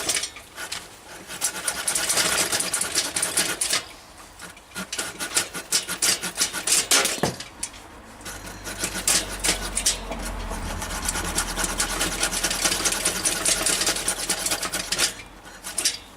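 A Solognac X7 knife's saw blade cuts through a log of firewood, giving a steady rasping scrape in long repeated strokes, loud and close, with a brief pause partway through and no talk.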